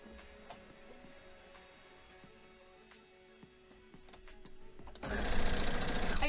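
A sewing machine stitches quilt pieces in a steady mechanical run, quiet at first, then swelling into a louder, denser whir over the last second.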